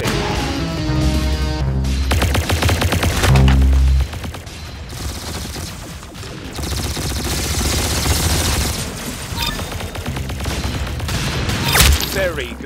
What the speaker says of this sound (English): Very good shooting.